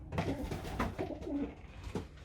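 Soft, low coos of pigeon chicks and muffled rustling in a pigeon loft, fairly close, with a bit of shuffling movement.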